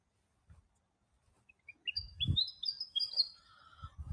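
A small bird chirps at a hill lookout with a quick run of high, thin tweets and a few softer calls. Low rustles and handling noises can be heard nearby, and no voices come through.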